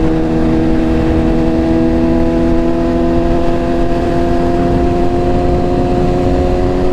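A BMW S1000RR superbike fitted with an Arrow Pro Race titanium slip-on exhaust holds a loud, steady engine drone with strong droning harmonics, close and constant throughout.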